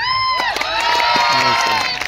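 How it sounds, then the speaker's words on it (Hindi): A large crowd cheers and shouts with scattered clapping for the founders at a skill development platform event, loud and close for about two seconds, with overlapping voices throughout. "गेम चेंजर के जो फाउंडर है, उनके लिए एक बार जोरदार ताली बजाइए आप।"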